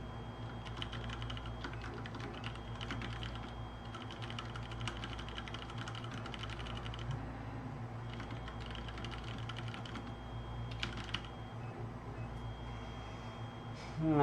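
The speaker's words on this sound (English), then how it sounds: "I'm just like typing" Continuous clatter of fingers typing on a computer keyboard, with rapid keystroke bursts and brief pauses over a constant low electrical hum.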